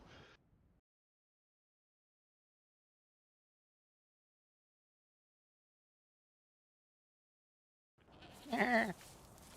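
A goat in the survival game DayZ, on the Frostline map, gives a single short bleat near the end after a long stretch of silence.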